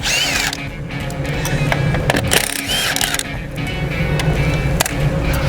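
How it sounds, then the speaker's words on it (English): A 9/16 socket ratchets out two 3/8 bolts from a snow catch on a SnowFire box, giving close metallic clicking and scraping with irregular bursts of rattling over a few seconds. "taking our 9/16 socket and removing these two 3/8 bolts on the snow"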